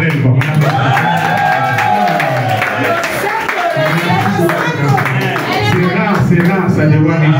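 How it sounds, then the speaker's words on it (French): A congregation at a thanksgiving mass celebrating a family's 15th anniversary claps along, with rhythmic applause mixed under a talking voice, singing and music throughout. "Il faut qu'on applaudisse pour elle."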